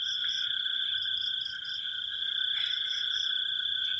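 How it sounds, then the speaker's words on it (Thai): Frogs croak in a dense, steady chorus at night after rain, a continuous shrill pulsing wall of calls with no voices present. "กบเขียดร้องระงม"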